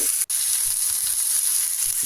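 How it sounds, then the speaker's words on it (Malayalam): Dried red chillies and chilli powder sizzling steadily in a pan over a low flame, a continuous close hiss broken once by a very brief gap, with no talking. "തീ കുറച്ച് വെച്ച് ഉണക്കമുളക് പൊടിയും എരിവിന് ആവശ്യമായിട്ടുള്ള ഉണക്കമുളക് കൂടിയും ചേർത്ത് നല്ല രീതിയിലൊന്ന് മിക്സാക്കി എടുക്കണം"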